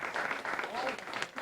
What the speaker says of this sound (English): give our finalists a good round of applause